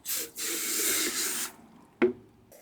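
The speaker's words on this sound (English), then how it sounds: "So just filling this up with water first so it doesn't foam up." A garden hose runs water into a snow cannon bottle while a jet ski is being washed, giving a steady, fairly loud hiss of filling and spraying, followed by a short splash or clunk and then near silence.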